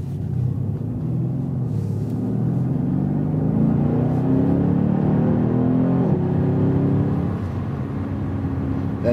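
A 2018 Mercedes-AMG C 63 S Coupé (C205 facelift) V8 in comfort mode with the exhaust flaps closed gives a steady, muted low rumble with gentle rising engine tones as it turns slowly in a small turning area, close by.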